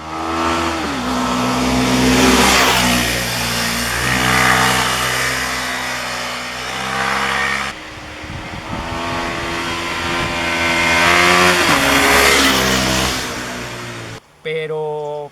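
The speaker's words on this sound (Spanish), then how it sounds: "este monocilíndrico no es precisamente el motor que más se destaca por su sonido" A KTM 390 Adventure single-cylinder motorcycle engine revs and accelerates close by, loud rising and falling pulls through several gears with a break in the middle, cutting off sharply at the end.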